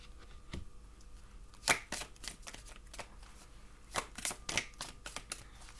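Oracle cards are handled and flipped over on a surface, with quiet soft slaps and shuffling rustles arriving in uneven bursts, close up in a still room.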